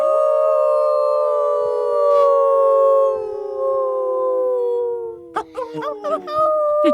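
A group of people imitate a wolf howl together, several voices holding long sliding tones that slowly fall in pitch, loud and close, breaking into ragged whoops and laughter at the end.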